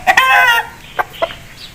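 An Aseel rooster clucks close by, starting with a drawn-out, throaty call that is followed by two short, sharp clucks spaced apart, all in the open with no talking.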